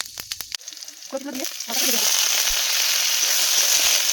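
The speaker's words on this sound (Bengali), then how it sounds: "এবার ওই তেলেই একটু পাঁচফোড়ন, শুকনো লঙ্কা দিয়ে" Panch phoron and dried red chillies hit hot oil in a pan used for frying mourala fish, giving a few crackling pops before breaking into a loud, steady, close sizzle.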